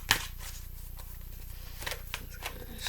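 Oracle cards being shuffled by hand: soft, papery riffles and flicks come in a few short bursts over faint low hum, close and quiet, with no talking.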